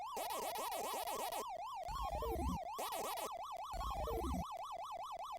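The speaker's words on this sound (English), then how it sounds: "The persistent siren is kind of annoying." A looping, wavering electronic siren tone from the Pac-Man arcade game sounds steadily and loudly throughout, joined by bursts of bright chiptune effects including rapid descending blips, with no voices.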